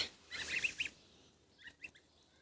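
A young gosling gives a quick burst of high, squeaky honks, then a second, fainter pair of calls after a short gap, close by in a quiet setting.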